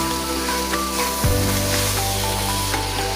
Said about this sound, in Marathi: आता मी त्यामध्ये 2 कापून घेतलेले टोमॅटो टाकत आहे आणि त्याला व्यवस्थित मिक्स करून घेणार आहे।